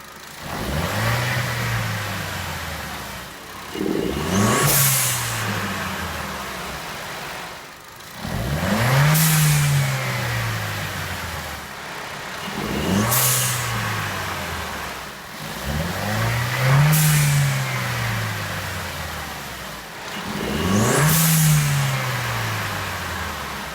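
A Chevy Sonic engine with a new aftermarket intake revs up repeatedly from idle, about six sharp throttle blips with a rising whine, each settling back before the next.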